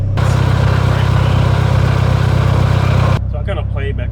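A Mitsubishi Evo 8 engine idles, recorded up close inside the engine bay: a loud, steady low rumble with even pulsing that runs unbroken, then cuts off abruptly as a voice takes over near the end.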